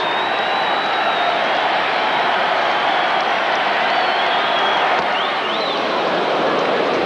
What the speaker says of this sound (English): This crowd here is something. They react on every pitch.